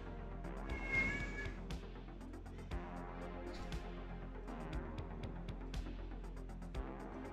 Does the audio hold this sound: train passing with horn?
no